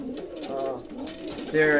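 Show-quality pigeons in a loft coo softly and repeatedly at close range, several low rolling calls overlapping, with a voice faintly present alongside.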